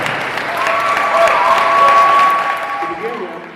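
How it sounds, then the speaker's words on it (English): Wedding guests applaud at a reception in Michigan, a dense wash of clapping that swells and holds for a few seconds before tapering off. "How about a big round of applause for Kevin?"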